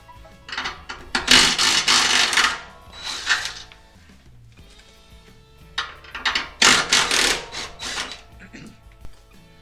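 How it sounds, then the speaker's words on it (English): A ratchet loosens 15mm exhaust bolts under a 2020 Ford Mustang GT during a resonator delete, with two close bursts of rapid metallic clicking separated by a quiet pause. "let's go ahead and get these bolts loose"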